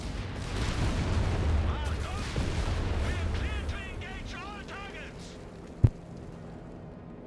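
Artillery barrage in Company of Heroes 3, with a steady roar of battle and rumbling impacts for several seconds, then one sharp, loud blast near the end. A voice talks over the first part.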